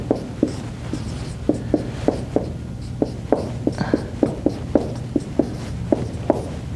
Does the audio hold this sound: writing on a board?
yes